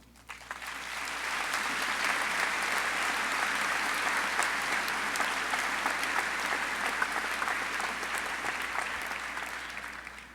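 An audience at a 2007 high school graduation ceremony claps in sustained applause. It builds quickly and holds steady for about ten seconds at a moderate distance, with faint crowd murmur underneath.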